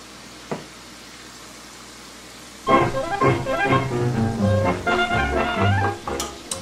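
Chrusciki, thin Polish pastries, frying in hot grease: a quiet stretch, then a loud, close bubbling sizzle with crackles that keeps going to the end.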